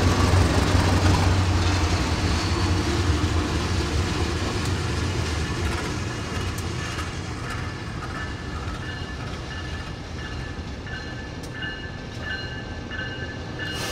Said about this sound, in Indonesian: Nah ini ada langsiran lokomotif. Lokomotif dilepas dari rangkaian